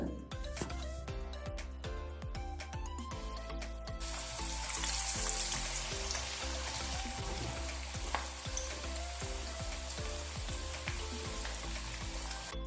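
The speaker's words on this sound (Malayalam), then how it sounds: "ഉള്ളിവട ഉഴുന്നുവട എല്ലാം ഭയങ്കര ഇഷ്ടമാണ് അതുകൊണ്ട് തന്നെ കുറച്ച് കൂടുതൽ പൊരിച്ചെടുക്കുന്നുണ്ട്" Onion vada fritters deep-fry in hot oil with a loud, bubbling sizzle that grows busier midway, over a faint steady background hum and occasional clinks, with no clear voices.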